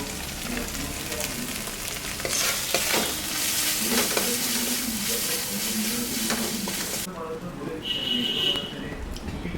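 Boiled chicken lollipops stir-fried with ground roasted spice in a pan, a loud close sizzle with scraping stirs that stops abruptly near the end, leaving a quieter hiss.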